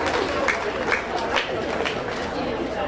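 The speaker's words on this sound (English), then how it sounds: "Another round of applause." Applause from the crowd at a county fair swine show, a steady round of clapping with scattered sharper claps and crowd chatter underneath.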